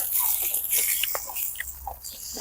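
Someone bites and chews crunchy grilled crying tiger beef, made with lava stone. The crisp, close crunches come in irregular bursts over a hiss of background noise.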